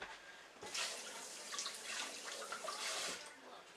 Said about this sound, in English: Just going to rinse it off and put it back into the Star Sands.